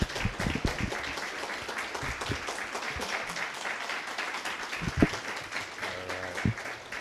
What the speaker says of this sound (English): can we give our panelists a round of applause, please?